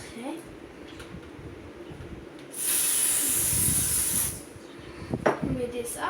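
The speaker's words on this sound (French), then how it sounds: "Vous mettez un petit peu de spray." Disinfectant spray is released inside a house in one sustained hiss lasting nearly two seconds, close to the microphone, with quieter handling noises before and after.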